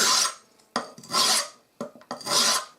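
A hunting knife blade is drawn against a sharpening stone in three rasping strokes, each a bright, gritty scrape with short pauses between. The strokes are close and clear, with no voices.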